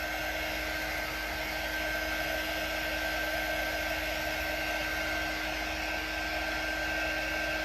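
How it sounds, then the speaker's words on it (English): A washing machine runs nearby, a steady mechanical hum with a constant whir and faint tonal whine droning on without change. "it's my washing machine working."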